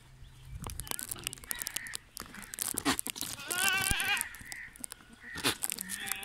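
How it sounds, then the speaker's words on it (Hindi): Pure Rajanpuri goats on a farm bleat in a few wavering calls amid clattering handling noises and outdoor background sounds. "और ये बकरा भी साथ जो है, ये बड़े वाला बकरा भी साथ है।"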